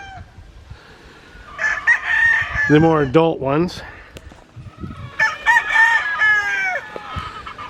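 Roosters crow loudly and nearby at a mountain chicken ranch in Bamban, Philippines, with several overlapping crows and clucks over a quiet background and a brief voice speaking.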